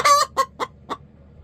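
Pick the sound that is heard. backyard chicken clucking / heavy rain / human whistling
backyard chicken clucking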